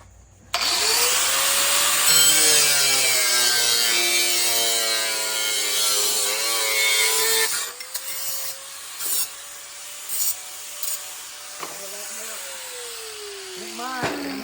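A handsaw cuts through a piece of wood in steady back-and-forth rasping strokes, loud and close, for several seconds before the sawing stops and scattered handling knocks and a brief voice follow.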